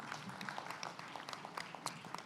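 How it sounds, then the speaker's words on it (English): Faint applause rises from a conference audience at an education sector gathering, a distant, dense patter of many hands clapping together with no voices over it. "Give him a big hand of applause"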